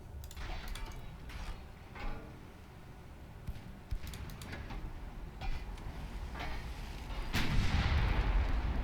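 Twin 9-inch naval guns fire in a battle in Ultimate Admiral Dreadnoughts, producing a string of sharp distant booms and cracks over a steady low rumble of sea and ship noise. A heavier blast lands near the end.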